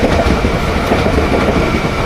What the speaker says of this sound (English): And now just get interrupted by a train.